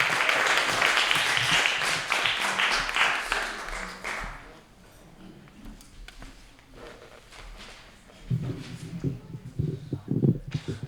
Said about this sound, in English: let's applaud all of our poets in the first round.